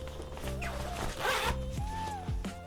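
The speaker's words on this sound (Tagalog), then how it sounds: "Pero bakit ganito yung zipper nito?" A zipper on a cycling gear bag is pulled in several quick zips, close and crisp, with short pauses between strokes and no talking.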